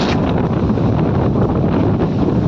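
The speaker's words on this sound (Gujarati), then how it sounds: "બહુ ફાસ્ટ પવન આવી રહ્યો છે" Strong storm wind in a village roars against the microphone in a steady, dense rush, buffeting continuously without pause.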